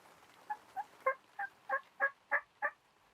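Wild turkeys gobble near hunting decoys in a run of about eight rapid, rattling calls, moderately distant and clear, with no talk over them.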